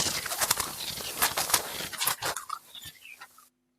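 Ultra-low-frequency wave data from four days, sped up and turned into audible sound: a dense, crackling, fluttering wash with bright bursts that thins toward the end, alone with no talking.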